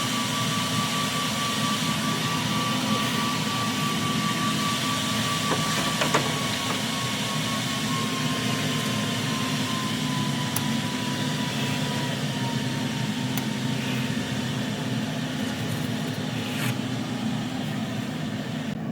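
A NEJE MAX 4 E80 laser cuts a plywood keyring at full power on its second pass, giving a steady, continuous whirring drone throughout with a few faint ticks and no voices.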